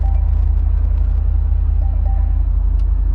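A Range Rover Autobiography's engine running right after start-up, a steady loud low rumble with a pulsing idle throb and no voices.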